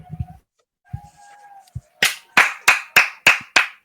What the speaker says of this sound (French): je les mets les applaudissements, c'est juste que je les mets pas trop fort